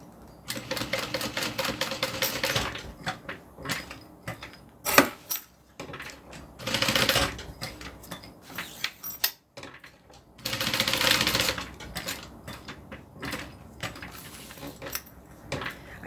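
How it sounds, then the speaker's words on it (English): A Juki 1181 sewing machine stitches fabric in a steady rapid mechanical chatter, with bursts and short stops as the seam goes around, close and fairly loud with no talking. "I'm just going to sew a rectangle around it."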